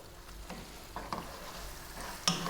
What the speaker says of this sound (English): Cooking out the tomato paste. Stirring very often.